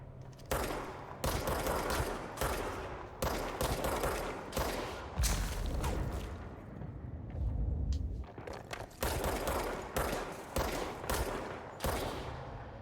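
Sniper and automatic gunfire in the video game Control: loud bursts of shots in rapid clusters separated by short gaps, repeating throughout with no one talking.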